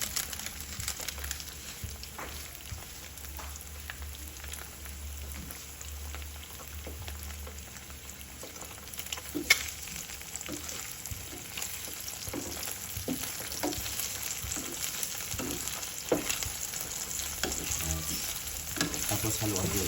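Eggs with carrots fry in a pan, giving a continuous crackling sizzle with dense spatter pops and occasional stirring scrapes that grow slightly busier toward the end.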